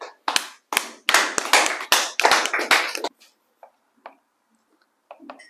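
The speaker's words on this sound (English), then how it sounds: "Claps for Zubetskaya." A class claps for a student in a lesson, several loud bursts of hand claps over about three seconds, then fading to a few scattered taps and faint sounds.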